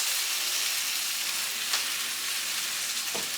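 Garlicky onion greens sautéing in a pan, a dense continuous sizzle heard up close with no talking, plus a couple of faint scraping stirs.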